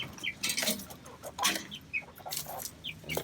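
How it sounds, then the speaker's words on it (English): Several chickens, including silkies and Italian Goldens in a backyard coop during molting season, give soft scattered clucks and short squawky calls in quick irregular bursts, fairly close, with rustling underneath and no talking. "And there's some other chickens right here."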